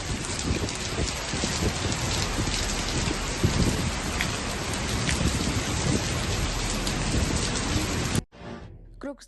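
Heavy rain pouring in Moscow, flooding metro stations and roads: a dense, loud, continuous roar of downpour that stops abruptly near the end.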